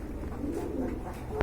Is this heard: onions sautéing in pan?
no